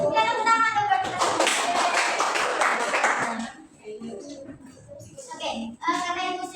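Young children in a classroom lesson break into brisk group clapping that lasts about three seconds, then a teacher's voice and other voices continue talking.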